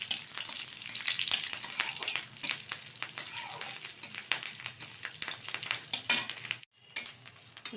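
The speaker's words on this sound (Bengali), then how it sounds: "ভালোভাবে কিন্তু আমি কাঁচা লঙ্কাটা ঘিয়ের সাথে ভেজে নিয়েছি" Slit green chillies fry in warm ghee with a loud, crackling sizzle and frequent sharp pops. The sizzle drops out briefly near the end.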